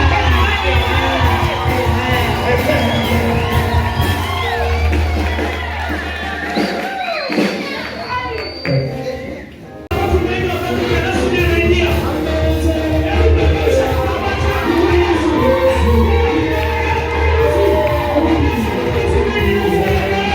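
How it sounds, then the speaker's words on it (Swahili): A church congregation at a Swahili-language worship service cheers and shouts for a sustained stretch, a loud dense mass of voices that dips briefly midway before surging back. "Hebu mshangilie Yesu."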